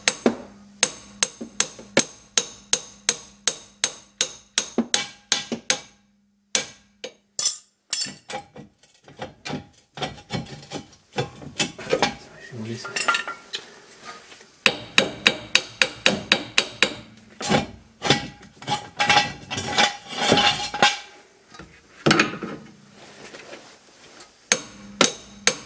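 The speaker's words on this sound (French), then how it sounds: "à l'aide du marteau, on fait tomber vers le bas le bras." Hammer knocking down the lower control arm on a Mercedes front suspension: many sharp metallic blows in quick bursts, some rapid series and some spaced strikes, loud and close, with brief pauses between groups.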